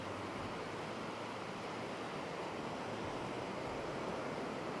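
Surf washes onto the wide, empty sand of Bang Niang Beach at Khao Lak, Thailand, a soft, steady broadband rush heard faintly and unbroken, with a touch of wind and no voices.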